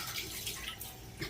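Lukewarm tap water running into a bathroom sink during a skincare routine, a soft, steady hiss of flowing water heard close and alone.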